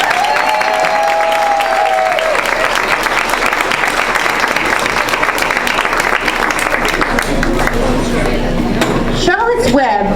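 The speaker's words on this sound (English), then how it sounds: "let's give them a big round of applause." Audience at a school board meeting applauding retiring teachers, loud, sustained clapping with scattered cheers and some clinking, then faint voices rising near the end as the applause thins.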